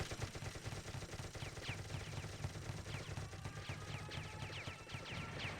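Rapid gunfire and mortar blasts from a competitive esports match, a dense continuous barrage with repeated bursts and sharp cracks layered throughout, loud and unbroken with no voices over it.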